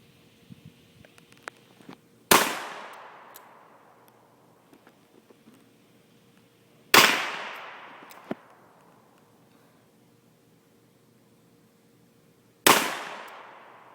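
Three single pistol shots fired at a target from 7 yards, each a sharp loud crack with a decaying ring, spaced several seconds apart with quiet in between.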